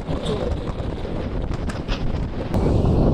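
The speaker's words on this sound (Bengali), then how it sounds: "প্রচন্ড বাতাস হচ্ছে" Powerful cold storm wind blows hard and continuously, buffeting the microphone with a loud, rushing roar that swells slightly near the end, with no voices over it.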